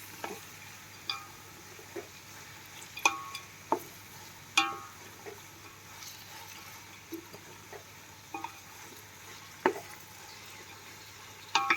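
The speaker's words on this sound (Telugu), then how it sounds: "ఈ ఉల్లిపాయ పచ్చిమిరపకాయ అన్నీ చక్కగా ఫ్రై అయిపోవాలి ఆయిల్లో" Chopped onion and green chillies fry in hot oil under a soft, steady sizzle, punctuated by sharp clacks and scrapes of a spoon stirring against the pan at irregular intervals, close and unaccompanied by speech.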